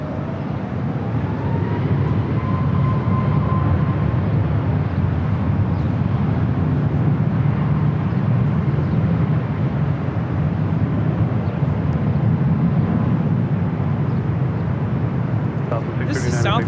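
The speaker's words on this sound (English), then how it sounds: "2745 taking off to Oakland on the MAX 8." A Southwest Airlines Boeing 737 MAX 8 taking off at LAX makes a loud, continuous jet engine roar with a broad low rumble that holds steady for the whole stretch, heard from some distance with no talk over it.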